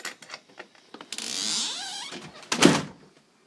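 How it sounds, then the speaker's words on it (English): A screen door at a house slides and creaks shut with a long scraping glide, then lands with a sharp closing clack, close and alone with no voices. "I'm just trying to shut the screen door."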